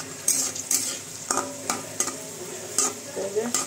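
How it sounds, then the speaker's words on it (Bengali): Papad fry in hot oil in a pan, with a steady sizzle broken by sharp scraping and clinking of a utensil stirring and turning them, close and fairly loud, with no voices. "এগুলো ভেজে নিব এখন আস্তে আস্তে"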